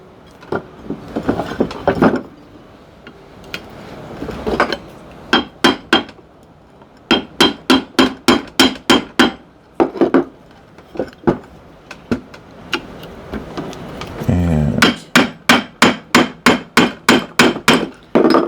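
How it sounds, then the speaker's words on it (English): Repeated blows from a small half hammer taking apart a metal ceiling fan come in quick bursts, loud and close, with pauses between volleys and a rapid final run of strikes. "Get my little half hammer"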